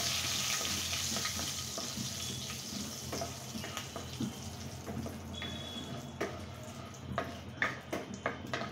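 Whole cinnamon, cloves, cardamom and bay leaf frying with dried chili in very hot oil, a steady close sizzle broken by clicks and stirring scrapes, with a few sharper pops near the end.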